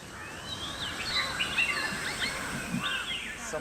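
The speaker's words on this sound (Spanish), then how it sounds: "A esta hora se puede oír el canto de muchos pájaros." Many birds sing together at dusk in a park in Thailand, a soft tangle of overlapping chirps and whistles heard at a distance over a steady hiss of ambient insect-like noise.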